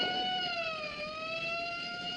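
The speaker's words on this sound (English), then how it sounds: "It's an ambulance." A siren wails continuously with a steady, slowly wavering tone, sounding somewhat distant and fairly faint throughout.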